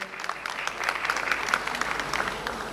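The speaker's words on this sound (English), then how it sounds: "Give them a round of applause" Audience applause at a presidential freedom campaign event, a steady, fairly soft ripple of many hands clapping together, evenly sustained throughout with a faint roomy quality.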